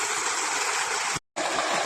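Irrigation water gushes steadily into a field plot in a loud, close rushing flow, briefly cut off for a moment before resuming.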